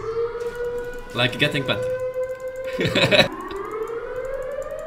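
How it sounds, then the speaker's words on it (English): A wailing air raid siren drones steadily in the background, rising and falling slightly, while someone talks over it in two short bursts. "that awkward moment when the air sirens go off on my stream"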